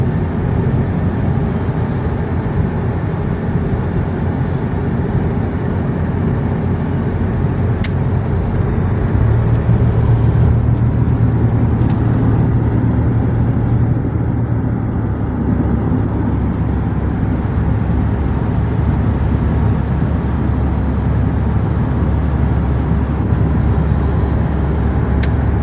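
A car on a wide road during a test drive, heard as a steady low engine and road rumble from inside or close by, continuous throughout with a brief swell in the middle and no clear talking.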